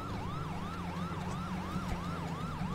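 A police siren in GTA 5 wails in a steady, fast rising-and-falling cycle over a constant low road rumble, sounding moderately close.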